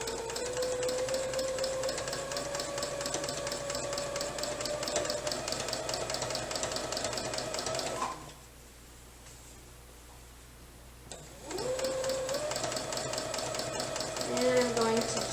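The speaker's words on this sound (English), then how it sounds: "to quilt a queen size on a domestic sewing machine, on a regular small domestic sewing machine" Small domestic sewing machine quilting a queen-size quilt, its motor humming with a fast steady needle chatter that runs continuously, stops for about three seconds, then resumes at a close, even pace.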